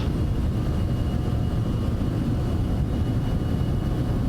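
A Citation X business jet at takeoff power in Microsoft Flight Simulator roars steadily, a dense, loud and unbroken engine rush with no voices over it.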